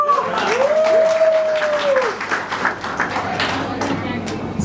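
Sparse audience clapping during a company chief's speech at an event in Ahmedabad, Gujarat: scattered, thin applause under a sustained tone and background voices.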